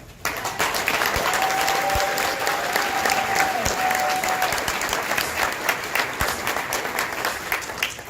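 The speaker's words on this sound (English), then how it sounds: "if you would please give me an applaud off the stage" A seminar audience applauds to welcome speakers onto the stage, a dense and sustained round of clapping that holds steady for about eight seconds, with a few low thumps in the room.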